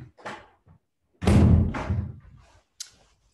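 A door being shut in a home, a single dull thud with some rattle, surrounded by brief muffled sounds and a short voice.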